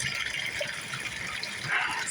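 Hot water running steadily from a kitchen tap, a continuous hissing gush of flowing water close by that holds even throughout.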